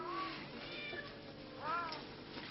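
A cat in a basket meows repeatedly in drawn-out, rising and falling cries, moderately close, with a faint room hush between calls.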